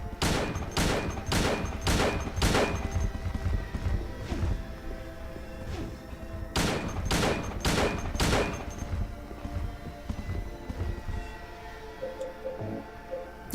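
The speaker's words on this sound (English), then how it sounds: "You might as well use the pistol." Pistol shots from a video game fire in two rapid bursts of about five evenly spaced, loud cracks each, separated by a gap with a lingering game soundtrack underneath.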